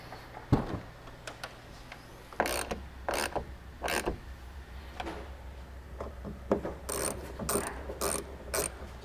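Ratchet clicks in several quick bursts while bolting a strutless drag wing spoiler onto the deck lid of a 6th-gen Chevrolet Camaro, with a steady low hum running underneath.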